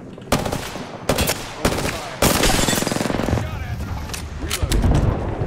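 Gunfire from a weapon in the Apex Legends video game: several short bursts, then a long loud sustained automatic volley breaking into more scattered shots, close and punchy.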